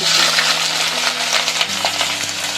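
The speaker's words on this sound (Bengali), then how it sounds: "পেঁয়াজটাকে কিছুক্ষণ নরম হওয়া পর্যন্ত ভেজে নিব" Sliced onions frying in oil in a pan with bay leaf and cinnamon, a continuous loud sizzle with light stirring movement throughout, nobody speaking.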